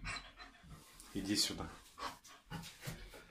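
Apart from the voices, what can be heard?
German shepherd dog panting heavily during labor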